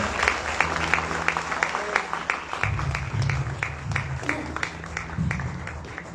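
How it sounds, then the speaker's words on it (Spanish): A church congregation applauding during a service, steady rhythmic clapping from many hands filling the room, fairly loud and continuous, with a low sustained tone beneath and a voice briefly audible. "Hay un aplauso al Señor"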